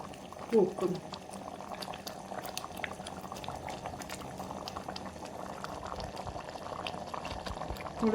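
Squid masala with dried coconut, chicken masala and kokum simmers in water on a gas stove, giving a steady soft bubbling hiss with small pops, fairly quiet and close.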